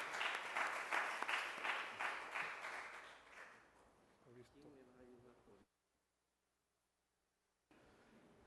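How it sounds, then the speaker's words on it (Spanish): Clapping from a sparse audience in a nearly empty auditorium welcoming a supreme court judge, fairly loud at first then fading away, followed by faint movement and a stretch of silence. "Lo recibimos con fuertes palmas"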